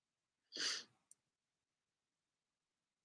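A single sharp sneeze bursts out, followed by a tiny click and then near silence.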